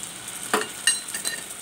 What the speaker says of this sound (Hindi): अदरक लहसुन का पेस्ट डालेंगे।